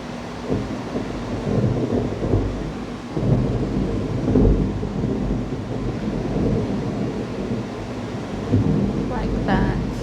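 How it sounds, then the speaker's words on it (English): Low, rolling thunder rumbles through a steady background of rain and wind, swelling and fading in several waves, with faint talk underneath. "Can you hear that thunder?"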